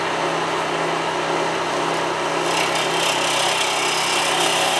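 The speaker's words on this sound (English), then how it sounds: "so I'm going to do the rest with a parting tool." A lathe spins orange tree wood for a salt and pepper mill while a parting tool cuts into it, a continuous loud whirring grind with a steady motor hum underneath and a brighter scraping edge, close and without talk.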